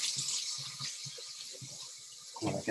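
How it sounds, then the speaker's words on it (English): Tap water runs into a kitchen sink as chocolate is rinsed off a utensil. The water is a soft, steady hiss that swells louder near the end, and faint low voice-like sounds sit underneath. "So I'm going to rinse this off."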